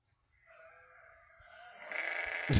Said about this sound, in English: What did the sheep say, Vic?